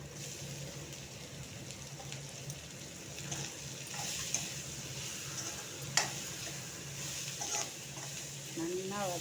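Soft sizzling of chopped bajji chillies frying in a pan with occasional scraping and stirring clinks, fairly quiet and steady, with faint background noise.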